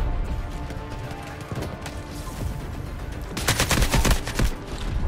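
Artillery shots in the Delta Force video game sound as a rapid cluster of heavy booming blasts partway through, loud and close over a rumbling background of gameplay noise.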